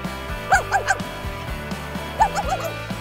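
A small female dog yips in two quick bursts of three or four sharp, high barks each, close by and over a steady low background hum.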